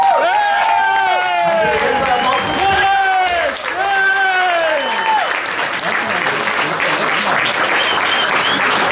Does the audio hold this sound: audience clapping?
yes